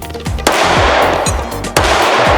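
Two sharp reports from a Ruger Single Six .22 single-action revolver, close and loud, spaced over a second apart, each with a ringing decay and steady background noise between shots.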